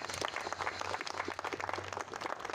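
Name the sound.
audience applause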